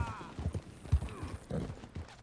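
A Kentucky Saddler horse in Red Dead Redemption 2 clops its hooves in a quick, uneven rhythm, soft and close, with faint creaks and someone talking over it.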